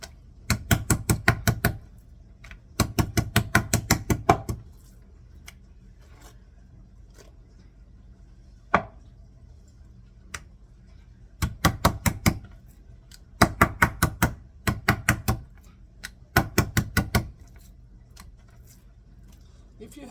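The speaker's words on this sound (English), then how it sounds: "I still like to pound it a little bit, just to tenderize it." Thin pork slices for schnitzel are pounded with rapid bursts of sharp, close thumps, several quick hits per burst with short pauses between, against a quiet background.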